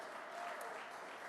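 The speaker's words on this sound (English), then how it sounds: "How about another round of applause for Governor Kathy Hochul?" Another round of applause for Governor Kathy Hochul at an event in Buffalo, a faint, even wash of crowd clapping heard at a distance and sustained through the short moment.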